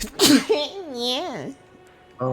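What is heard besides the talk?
sneeze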